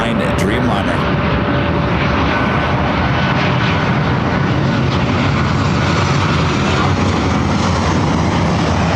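A United Airlines Boeing 787-9 Dreamliner arriving from Tokyo Narita at LAX gives a loud, broad jet engine roar that holds steady throughout, while someone talks over it.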